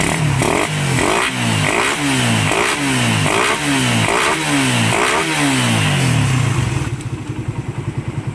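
A Raider 150 motorcycle with a newly installed cam revs hard in repeated rising bursts, loud and close with a clattery edge, then settles to a steady idle at the end.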